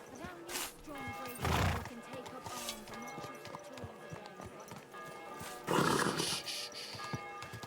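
A horse whinnies loudly in the video game Kingdom Come: Deliverance II, then hooves clop at a steady walk under faint background music, with another loud snort or neigh near the end.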